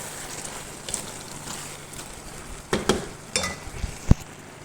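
Washed chicken frying in a pot for chicken machboos, a steady soft sizzle running throughout with a few sharper pops and clatters near the end, no talking.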